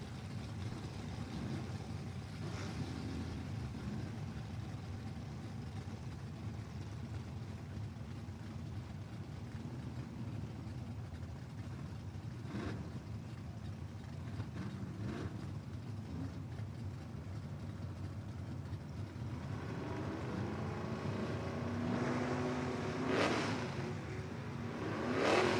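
Drag racing at a strip with a 1955 Chevrolet and a 428 Cobra Jet Mustang, engines rumbling and revving at a distance, building into louder rising acceleration roars toward the end.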